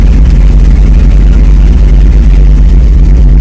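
A 1957 Chevrolet pickup engine runs steadily at idle, a loud, continuous low rumble close by with no pauses or voices.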